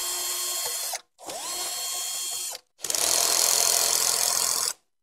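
A power driver whirs in three bursts while undoing screws on a Two-Rock guitar amp panel. The first two runs are short, the third is longer, and each stops abruptly. The sound is close, and no one speaks.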